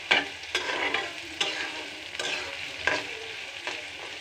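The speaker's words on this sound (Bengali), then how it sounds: "এখন আমি সবগুলি উপাদান একসাথে কড়াইতে ভাজতে থাকব।" Kalmi greens with green chilies and other ingredients fry in oil in a wok, a soft constant sizzle broken by sharp spatula knocks against the pan every second or so, close and fairly quiet.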